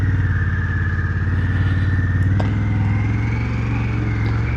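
A heavy motorcycle idles close by during a ride in Lancaster, Pennsylvania, its engine a steady, loud, low throbbing pulse with faint clatter, heard alone without talk.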